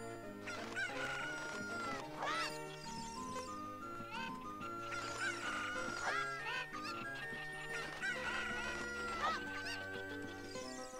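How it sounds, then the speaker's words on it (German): Chickens in the video game The Legend of Zelda: Ocarina of Time cluck and crow repeatedly in a busy overlapping flock over looping game music. "Das sind verdammte Hühner."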